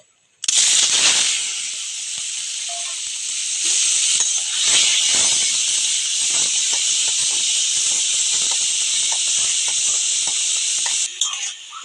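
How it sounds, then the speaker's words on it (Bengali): Loud, continuous sizzling hiss of shrimp frying in hot oil, starting abruptly and crackling steadily until it cuts off near the end. "প্রথমে চিংড়ি মাছটা ভেজে নেবো"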